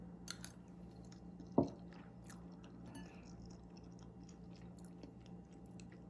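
Someone chews a baked crab dish, making quiet, close, moist mouth sounds with one sharper click partway through over a low background hum.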